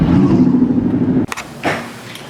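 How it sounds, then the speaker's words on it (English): A big truck rumbles low and heavy right alongside, close and loud, then its roar drops away abruptly, leaving softer road noise and a brief whoosh in bad weather. "This truck is right up against me."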